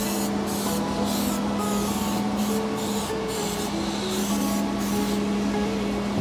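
Aerosol spray can coating a car headlight on a fire-damaged 2021 BMW 228i, with repeated close hissing bursts in a steady rhythm of short sprays and brief pauses, over a constant low background hum.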